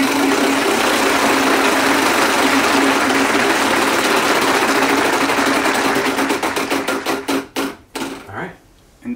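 A Wheel of Fortune style prize wheel spins loudly at a game night, its rapid clicking steadily slowing into separate ticks before coming to a stop.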